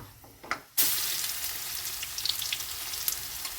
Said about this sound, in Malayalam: നമ്മൾ എണ്ണയൊക്കെ എല്ലാം ചൂടായി വന്നിട്ടുണ്ടെങ്കിൽ നമുക്ക് ഒരു സ്പൂൺ കടുക് കൊടുക്കട്ടോ